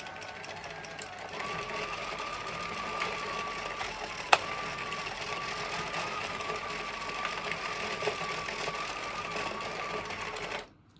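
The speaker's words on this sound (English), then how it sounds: "That's knitting in the round, circular knitting." A knitting machine fitted with a ZestWrench adapter runs steadily while knitting in the round, giving a continuous mechanical whir with a sharp click about a third of the way through, before stopping abruptly at the end.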